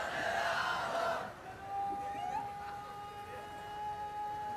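A crowd at an Islamic waz gathering in Bangladesh chants a slogan together, a loud massed roar for the first second that gives way to a fainter, sustained tonal crowd sound.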